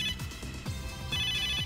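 An in-game phone ringtone from the video game Megadimension Neptunia VII plays as a repeating electronic melody, with a bright tone pattern that loops steadily at moderate loudness with no talk over it.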